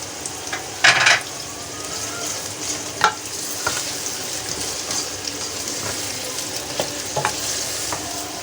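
Ginger garlic paste is added to mutton frying in a pot, giving a steady, moderate sizzle with occasional stirring scrapes and clinks. The paste sizzles on its own without any speech.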